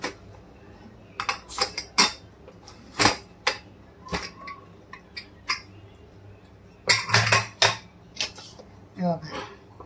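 A pressure cooker holding cooked black chickpeas is opened, giving a run of sharp metallic clanks and rattles of lid and pot, clustered in irregular bursts, loud and close.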